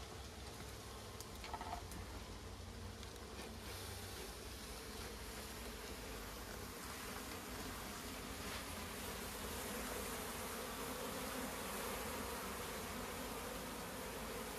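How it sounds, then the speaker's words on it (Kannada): Honey bees buzz in a dense, steady drone around an opened hive as smoke drives them off during a honey harvest, a continuous close swarm hum with no talk. "ಈಗ ನೋಡ್ಬೋದು ಸ್ಮೋಕಿಂದ ಅದನ್ನು ಜೇನು ಹುಳವನ್ನು ಬೇರೆ ಮಾಡ್ತಾರೆ"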